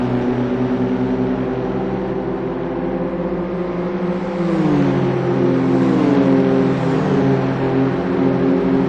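Damaged BMW M2CS race car heading to the pits, its engine droning loudly and steadily, with the pitch sliding partway through as the revs change.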